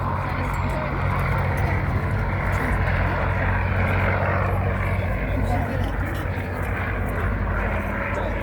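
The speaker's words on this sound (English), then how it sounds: "P-40 was designed by Curtiss Aircraft, and it was actually a modification of another Curtiss design, the Curtiss P-36 or the Hawk." A Curtiss P-40 Kittyhawk, a World War II fighter derived from the Curtiss P-36 Hawk, flies an airshow display, its piston engine giving a continuous loud drone with wind rumble and crowd noise.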